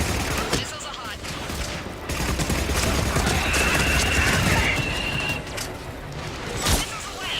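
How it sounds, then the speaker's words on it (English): Missiles launch in rapid succession in the sci-fi game Mass Effect, a dense barrage of whooshing bursts and crackling blasts layered over battle noise, with voices faintly underneath. "Missiles away."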